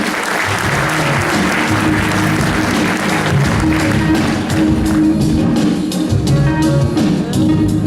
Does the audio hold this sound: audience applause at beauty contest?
yes